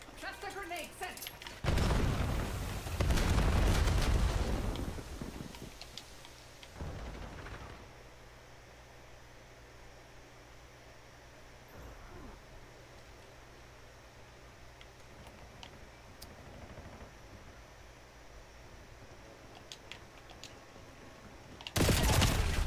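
Cluster grenade in Call of Duty setting off loud bursts of explosions at the start, scattered smaller blasts through the middle, and another heavy explosion at the end, with gameplay noise throughout.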